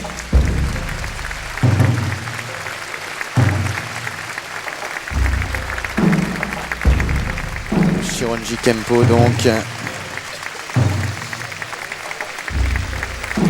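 A crowd keeps clapping after a Shorinji Kempo martial arts display at Bercy arena, a steady wash of applause running underneath a male announcer's speech.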